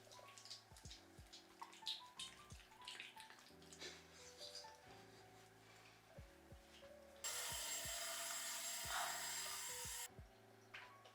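Water splashes and rubs during a face wash with CeraVe cleanser, with soft wet patting and dripping, then a loud steady rush of running tap water for a few seconds before it stops.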